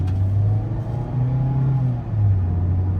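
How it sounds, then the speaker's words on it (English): A 2025 Mazda Miata engine hums loudly nearby as it accelerates, a steady rumbling drone that rises in pitch, dips briefly, then climbs again, with no voices. "as we accelerate, you can hear this car's power"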